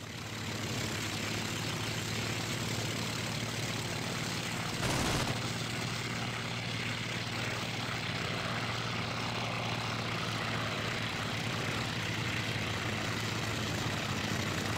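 Steady, loud propeller engine drone of a fighter plane in the flight sim IL-2 Sturmovik, a continuous roar that holds unchanged throughout, with no talking.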